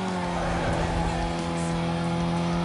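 Race car engine in the video game Need for Speed Most Wanted (2005) roars steadily with a strong droning tone, gear changes blending into continuous loud revving and faint tire noise.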